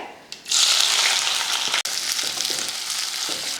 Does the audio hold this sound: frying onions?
yes